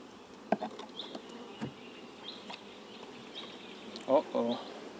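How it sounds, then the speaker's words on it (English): Honey bees buzz softly at a hive kept by a beekeeper and affected by colony collapse disorder, a faint steady drone with a few brief louder buzzes near the end. "And this bee right here, it's doing a dance."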